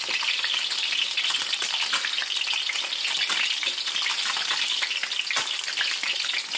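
Trout frying skin-side down in a pan after a catch at Ochoco Reservoir, a dense, even sizzle held close and loud throughout with no talk.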